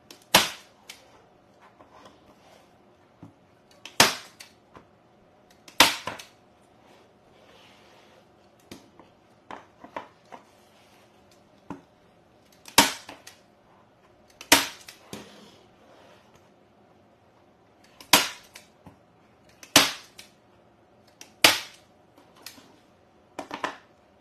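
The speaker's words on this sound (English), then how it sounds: "So now that I have stapled it all in place" A staple gun fires staples to fix canvas to a frame: about a dozen sharp, loud snaps spaced a second or several apart, close to the mic, with faint handling noise between and no talking.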